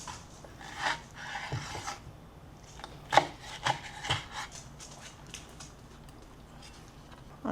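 Good kimchi is cut into bite-sized pieces with a knife on a cutting board, soft irregular chops and scrapes with a few sharper knocks, close but fairly quiet.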